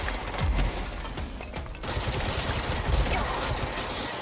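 Dense bursts of rapid gunfire from the video game Abiotic fill the scene as enemies are shot, a busy, continuous clatter of shots with no talk over it.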